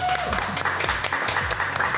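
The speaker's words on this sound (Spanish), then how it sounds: "hoy es un placer recibir con el aplauso de siempre" Audience applause greeting a psychologist taking the stage at a talk, a dense wash of clapping with a few louder hand claps close by and some voices mixed underneath.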